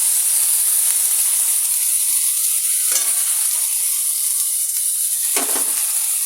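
Ginger, garlic, tomato and green chilli paste goes into a hot pan, setting off a steady close sizzle with a soft hiss of steam and a couple of brief scraping stirs, with no talking.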